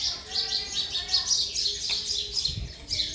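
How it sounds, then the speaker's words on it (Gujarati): A pair of sparrows near a house trade quick, bright chirps in a rapid repeating series, close and clear over a quiet domestic background. "ત્યાં બે ચકલીઓ છે."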